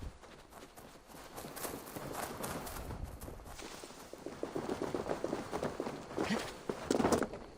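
Rapid running footsteps from a character crossing open ground in Assassin's Creed Valhalla, a steady patter of quick steps that grows louder and more distinct toward the end, with game ambience underneath.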